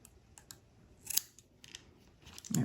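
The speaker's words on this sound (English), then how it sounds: "cut right at the O-ring right there. So I'm just going to cut it right there." Scissors snip cotton wick at the O-ring of a Steamcrave Aromamizer Supreme V3 RDTA vape atomizer, giving several sharp close-up cuts with a louder snip near the end.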